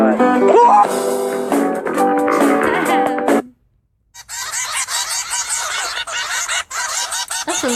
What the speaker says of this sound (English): Look, there's a bird, dude, it knows what's good.